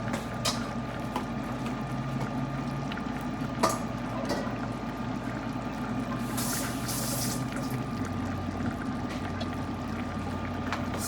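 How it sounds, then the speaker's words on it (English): Water bailed out of a pot of boiling pigstail in a kitchen, a continuous splashing, pouring wash with a steady bubbling hiss underneath, close and unbroken throughout. "And I bail out some of that water again."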